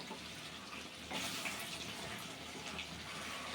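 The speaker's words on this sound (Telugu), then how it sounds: "ఇప్పుడు దీంట్లో కొంచెం వాటర్ పోసుకుందామండి" Steady rush of water being poured into a pot of chicken curry, continuous throughout with a slightly louder surge in the middle.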